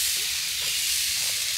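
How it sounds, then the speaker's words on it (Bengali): Grated coconut added to a hot wok gives off a steady, even hiss and sizzle, constant and fairly close for the whole moment with no breaks. "তার জন্য প্রথমে কড়াই আমি নারকেল দিয়ে দিচ্ছি"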